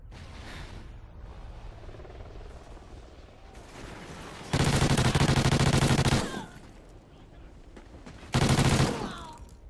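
Gunfire from the Call of Duty Ghosts video game comes in two loud, sustained bursts of rapid automatic shots over a low background hum, the first lasting nearly two seconds and the second shorter.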